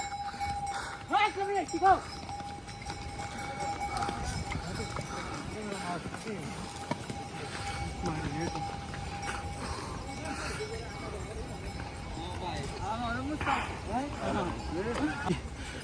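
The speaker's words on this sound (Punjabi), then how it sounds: "ਦੇਖੋ ਜੀ ਵੀਰ ਇਸ ਤਰ੍ਹਾਂ ਜਾ ਰਹੇ ਆ ਘੋੜਿਆਂ ਦੀ ਸਵਾਰੀ ਕਰਕੇ" Horses carrying riders clip-clop along the mountain pilgrimage trail from Govindghat toward Hemkund Sahib, with steady close hoof beats, faint bells and a voice talking over them.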